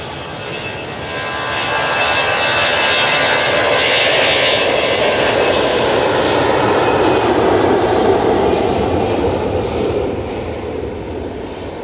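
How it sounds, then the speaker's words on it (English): An EasyJet airliner takes off from Manchester Airport bound for Amsterdam, its jet engines a broad, loud roar that swells in, holds steady for several seconds, then fades as it climbs away. "this is the EasyJet going out to Amsterdam"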